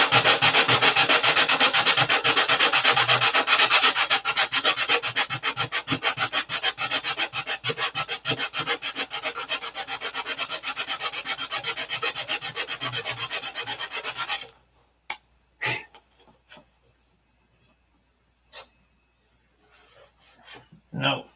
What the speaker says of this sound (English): So we'll get these all sanded out, call it a night.